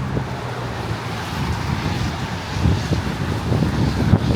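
Strong wind gusts roar across an open outdoor parking area in Philadelphia during a storm, a steady broadband rush with heavy microphone buffeting that swells louder toward the end, with faint traffic noise underneath.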